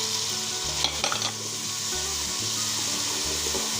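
Ginger garlic paste sizzles in a pan with onion and a tomato and green chili paste for a kadhi pakora, with a constant hiss, a few spoon scrapes and a low rhythmic hum underneath.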